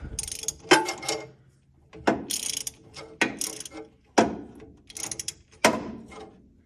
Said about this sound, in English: With the puller on, we're going to remove